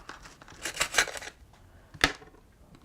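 A vegan tortilla wrap burrito is sliced with a knife, giving a cluster of crisp, crackling cuts followed by a single sharp snap a moment later.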